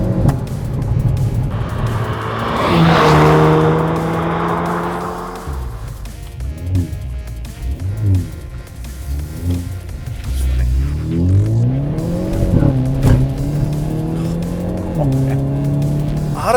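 A 2022 Hyundai Veloster N with a dual-clutch transmission accelerates hard, its engine note climbing and dropping through several rapid gear shifts, loud and close from inside the car, with brief tire noise and a short burst of speech.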